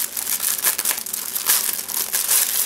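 A sealed piano tote bag package being opened, with steady crinkling and crushing of plastic wrapping filling the moment at close range, no talking.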